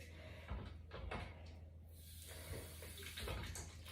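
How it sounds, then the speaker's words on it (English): A child wets their hands under a running tap, a faint, steady wash of water with soft splashes and a few light knocks nearby. "can you get your hands wet for me?"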